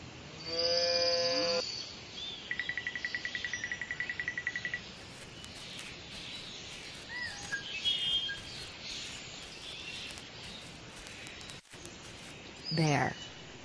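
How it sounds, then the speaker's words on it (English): A cartoon cow in a children's animation gives one loud moo at the start, followed by bright electronic tones and quieter background sounds. "Cow."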